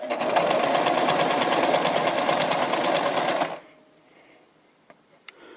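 A Brother LX-3125 sewing machine stitches around the curved armhole edge of an apron, running in one steady, close, rapid whir for about three and a half seconds before stopping, followed by faint handling clicks.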